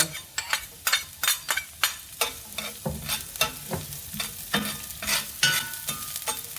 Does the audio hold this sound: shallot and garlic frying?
yes